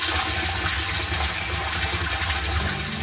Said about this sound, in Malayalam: ഇപ്പോൾ വെള്ളം നിറഞ്ഞുകൊണ്ടിരിക്കുന്നതാണ് കാണുന്നത്, ടാങ്കിൽ വെള്ളം അടിച്ച് നിറഞ്ഞുകൊണ്ടിരിക്കുന്നതാണ്